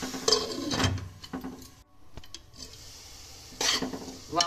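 Oats khichdi with onion and garlic being stirred and sautéed in a pan: a few scraping spoon strokes and bursts of sizzle, with quieter gaps between them, close and moderately loud.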